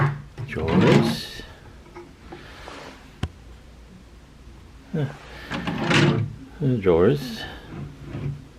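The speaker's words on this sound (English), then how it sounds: "Drawers." Hotel room drawers slide open and shut with wooden knocks and scrapes, mixed in among a person talking nearby, plus one sharp click partway through.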